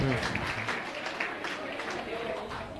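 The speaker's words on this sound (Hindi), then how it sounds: "हाँ, तालियां बजाओ लड़कियों, तालियां बजाओ" Girls in a psychology class give a round of applause, a soft, dense patter of clapping with some voices mixed in.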